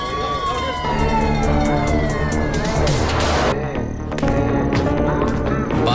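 In a film scene, a loud fire engine siren wails and sweeps downward over rumbling traffic, then cuts to a busy street with a horn and passing vehicles.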